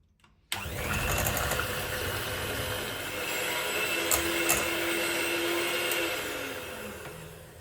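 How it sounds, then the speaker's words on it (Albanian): An electric hand mixer whirs loudly and continuously as it beats a Lotus cheesecake mixture in a bowl into a stiff foam, starting abruptly after a short quiet moment and running steadily throughout. "Dhe masën tash e rrohi mirë me mikser, derisa ta formojmë një shkumë të fortë e cila nuk largohet nga ena."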